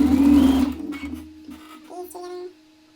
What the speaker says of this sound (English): let's go ahead and get sewing